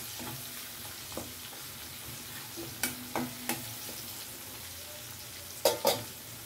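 Chopped onion and Shivada fish frying in a pan with a soft, steady sizzle, broken by a few sharp scrapes and clinks of a spatula stirring, close and fairly quiet.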